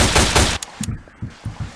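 Gunfire in the game Garry's Mod: a loud burst of rapid automatic shots, then several short separate shots spaced apart, with no talking.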